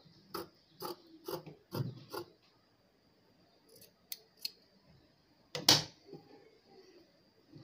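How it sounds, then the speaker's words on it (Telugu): Scissors make a series of sharp snips while cutting blouse fabric crosswise at the neckline: four quick cuts close together, a pause, a few lighter clips, then one louder final snip, with no talking. "ఈ విధంగా మెడభాగానికి క్రాస్గా కట్ చేసుకోవాలి."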